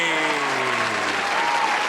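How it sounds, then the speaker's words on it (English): Applause rolls steadily through a podcast studio, a continuous clapping wash at full volume with a voice carrying over it. "And thank you for the applause."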